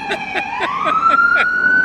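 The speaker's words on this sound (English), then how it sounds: "Can hear the siren, folks." An emergency vehicle siren wails, rising and holding steady, fairly loud and continuous, with faint voices or background noise underneath.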